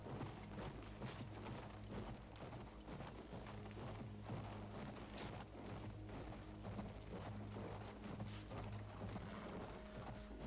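Horse hooves clip-clop in a quick, steady galloping rhythm in the video game Battlefield 1, faint and continuous with low mechanical game ambience underneath.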